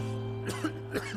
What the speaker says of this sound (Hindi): आपकी खांसी की बात कर रहे हैं